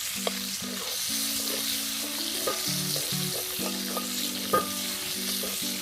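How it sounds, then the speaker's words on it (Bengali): Whole garam masala spices crackling in hot oil make a steady close sizzle with occasional pops and clicks, while a low sustained tonal hum sits underneath throughout and no one speaks. "গোটা গরম মশলা আমরা তেলে ফোড়ন দিয়ে দেবো।"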